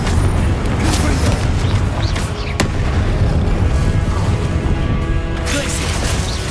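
Blasts from the Confringo explosive spell cast in the video game Hogwarts Legacy: loud booming bursts with a sharp crack near the middle, over dense, continuous game noise.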